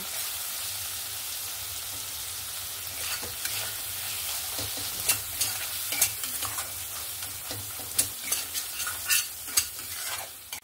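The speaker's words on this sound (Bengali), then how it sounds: "দিয়ে আমি মশলাটার সঙ্গে ভালো করে কষিয়ে নেব" A spice paste with ground coriander and salt sizzles steadily while being sautéed in a pan, with scraping stirs breaking through as irregular clacks and spatters over the constant frying hiss.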